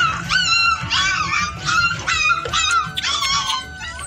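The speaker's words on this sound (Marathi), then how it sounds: "काय कुत्रे आतमधून ओरडे ते" Several dogs shut indoors whimper, yip and let out short howling cries in quick, overlapping bursts, close and insistent, over faint background noise.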